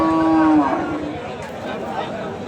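Thin, bony cattle at a livestock market give one loud, drawn-out moo lasting under a second, then fade into a steady murmur of market noise.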